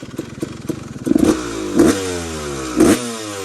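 Engine of a Honda CR250R two-stroke dirt bike, a cheap race bike with possible loose motor mounts, running close by with a clattering idle and three sharp throttle blips, each rising and falling away.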